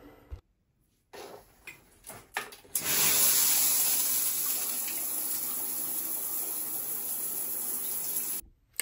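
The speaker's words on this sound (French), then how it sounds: "je vais prendre ma douche" A home shower runs water in a steady, dense hiss that starts abruptly after a few faint knocks and handling noises, then continues evenly at close range before cutting off.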